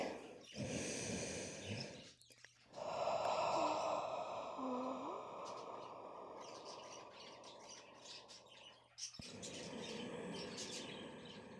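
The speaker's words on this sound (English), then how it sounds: "My birds are screaming." Pet birds screeching indoors in a quiet room, harsh squawks and a few rising calls clustered loudly in the middle, over steady background hiss and a low hum.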